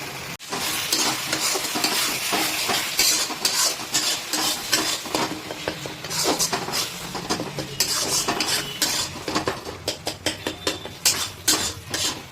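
Spice paste frying in fish oil for a pangas fish curry, a loud continuous sizzle with repeated scraping and clattering of a spoon stirring against the pan, close and busy throughout.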